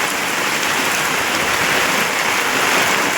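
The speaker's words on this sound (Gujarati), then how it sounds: "બહુ જ વરસાદ પડે." Heavy rain pours down in a dense, constant hiss of drops hitting surfaces, loud and close, with no pauses and no voices.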